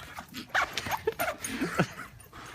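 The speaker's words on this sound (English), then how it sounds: "This dog is monstrous!" A dog whimpers and yips in short uneven bursts against a noisy, muffled background, moderately close but not very loud.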